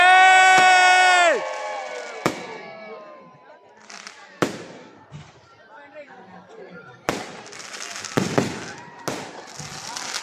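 A Christmas fireworks display in Santo Tomas, Batangas: a long whistling tone at the start, then several sharp, loud bangs spread over the stretch, with a crowd cheering and shouting around them.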